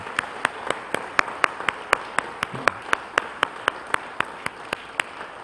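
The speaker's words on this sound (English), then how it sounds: "I'd like to have another round of applause" Rhythmic, steady clapping from a church congregation, about four claps per second in a regular beat, moderately loud and close, with little else underneath.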